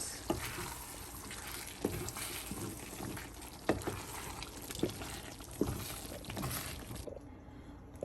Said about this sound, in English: So it's still cooking, and I'm just gonna let it cook. It's on medium heat, and my mom is just going to mix it.